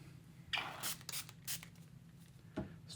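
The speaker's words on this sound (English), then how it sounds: "Spray it with water" Several short, hissing spray bursts at close range, a few spaced apart with pauses between them, over a low steady hum.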